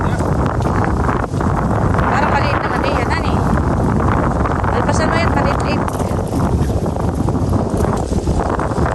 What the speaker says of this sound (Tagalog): Grabe po ang hangin, oh.